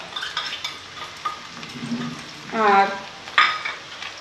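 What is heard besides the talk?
ginger garlic paste added to frying spices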